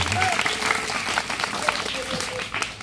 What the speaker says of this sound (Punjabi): ਬੱਡੇ ਸਾਰੇ ਤਾੜੀਆਂ ਮਾਰ ਦਿਓ